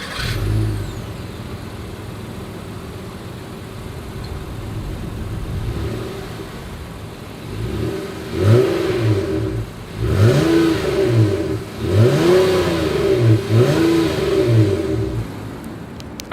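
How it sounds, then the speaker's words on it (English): A 2021 Honda Odyssey Elite minivan's exhaust is recorded at the tailpipe: a steady idle rumble, then a series of sharp revs that climb and fall back, repeated several times in quick succession, loud and close with no talking. "As always, here is that exhaust clip."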